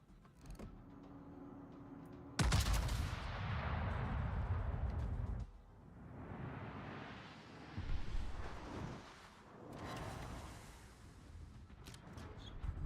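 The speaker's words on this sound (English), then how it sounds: "They're firing at him." Heavy ship guns firing in World of Warships, a deep booming salvo followed by a long rumbling roar and further distant thuds, quiet to moderate with no talk.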